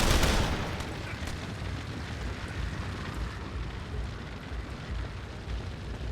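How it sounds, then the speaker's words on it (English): Barrage explosions in the video game The Lamplighters League: a heavy boom opens, then a dense, rumbling wash of blasts and debris rolls on steadily, loud and continuous with no voices. "then we'll just barrage this whole group like this"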